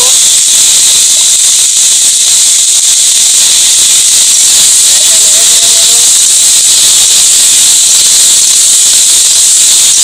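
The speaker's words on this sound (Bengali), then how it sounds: "কালো জিরে ছড়িয়ে দেব, একটুখানি পাঁচফোড়ন ছড়িয়ে দেব" Black cumin seeds and panch phoron sizzle steadily in hot oil for a Bengali chicken dish, a loud, continuous broadband hiss that holds evenly for the full length with no voices.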